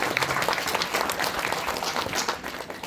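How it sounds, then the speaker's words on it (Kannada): A crowd claps loudly and warmly to open an Independence Day gathering, a thick continuous wash of many hands at steady volume with no voices over it. "ಜೋರಾದ ಪ್ರೀತಿಯ ಚಪ್ಪಾಳೆಯ ಮೂಲಕ ನಾವು ಈ ಕಾರ್ಯಕ್ರಮವನ್ನು ಶುರು ಮಾಡೋಣ"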